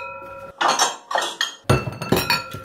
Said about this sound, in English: Tongs on the floor.